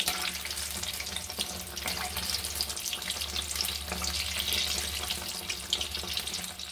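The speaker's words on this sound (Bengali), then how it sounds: "দেখুন লাল লাল করে সুন্দর করে লাগে, সবগুলো আমি ভেজে নিলাম।" Prawn pakoras deep frying in hot oil give a steady, dense bubbling sizzle that runs unbroken for several seconds at moderate level, with no voices over it.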